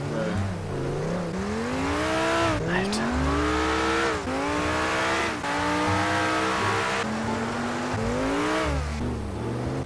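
Lamborghini in the video game GTA driving off, a loud engine revving up and down through repeated gear shifts, with tire noise and voices talking over it.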